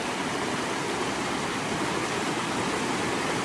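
A muddy tropical river flows in a constant broadband rush of water, loud and close, with no talking.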